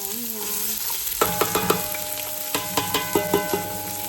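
Onion frying in cooking oil sizzles steadily in a pan, with a series of clattering stirs and scrapes from a utensil, about ten sharp knocks in a loose rhythm.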